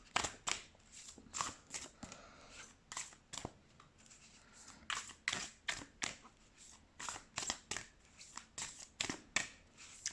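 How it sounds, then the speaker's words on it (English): Tarot cards shuffled in quick, crisp riffling bursts, repeated many times at close range with short pauses between each shuffle. "let's shuffle some tarot cards"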